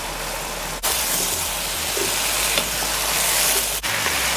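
Eddoes and green onion hitting a pan of simmering curry, bringing up a loud, steady sizzle and frying hiss close by, with a couple of brief breaks in the sound.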